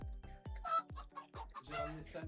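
A chicken clucks in the party game Fall Guys, giving a quick run of close, sharp clucks and squawks in an uneven rhythm.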